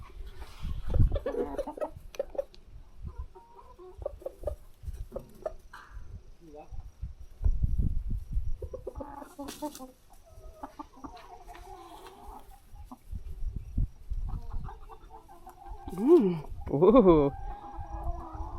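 Farm chickens being moved into a new pen cluck and squawk intermittently, with a louder burst of calls near the end, under scattered nearby talk.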